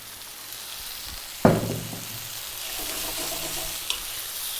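Water hits a hot pan of fish frying in black bean sauce over high heat, producing a sudden loud sizzle burst that settles into a steady frying hiss.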